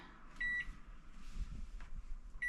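A kitchen oven beeps as it is set to preheat to 350, two short electronic beeps about two seconds apart over low room noise.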